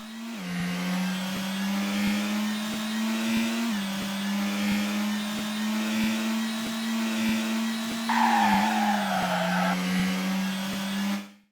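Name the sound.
car engine in a racing video game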